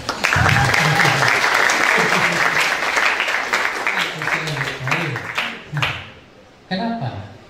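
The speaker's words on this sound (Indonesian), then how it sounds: "mana tepuk tangannya?" Audience applause fills a school farewell ceremony hall, a dense sustained burst of clapping that thins toward the end into scattered claps, with a few voices and chuckles mixed in.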